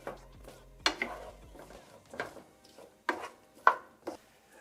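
A utensil stirs potatoes and onions cooking in a pan, producing a run of clattering scrapes and knocks at an uneven pace, fairly close and moderately loud.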